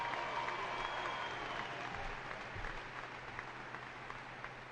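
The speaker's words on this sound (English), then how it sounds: "Now let's honor them with our applause." Applause from a ceremony audience honoring named people, a steady wash of clapping held evenly for the whole stretch, moderately loud with a faint crowd murmur beneath and no talking.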